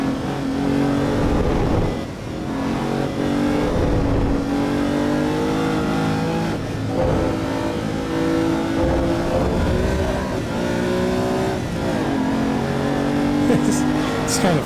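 Lamborghini race car engine at Spa in Assetto Corsa EVO, a steady loud drone that rises and falls with throttle and shifts, with someone talking over it throughout.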